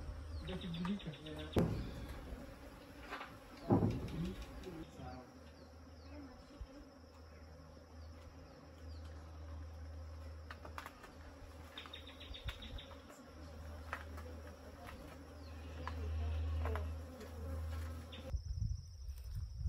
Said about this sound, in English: we can see good number of bees checking the hives.